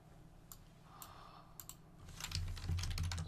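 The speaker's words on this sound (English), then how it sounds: "So the keyboard's working." Keyboard typing at a computer during a Kerbal Space Program session: a few sparse, separate key clicks early on, then a denser, louder burst of rapid tapping toward the end, close by with no talk.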